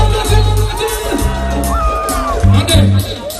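A festival audience cheers and whoops loudly at a live music performance, with shouts rising in bursts over a dense crowd hubbub.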